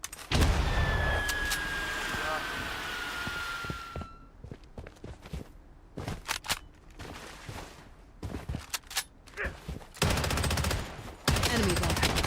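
Gunfire in the video game Fate Trigger: bursts of sharp, loud shots in quick rapid-fire strings, broken by brief pauses and a high ringing tone early on.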